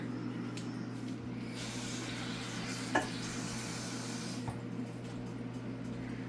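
Onions grilling in a pan as a burger topping give a steady, fairly quiet sizzling hiss, with one sharp clack of a utensil partway through and a softer tap later.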